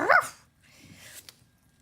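A dog gives one short, sharp bark right at the start, fairly close and loud, followed by a quiet stretch with faint indoor rustling.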